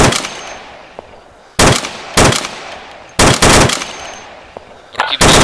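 Automatic gunfire bursts from an Arma 2 firefight, four or five loud bursts of rapid shots separated by short gaps, with more distant shooting faintly underneath.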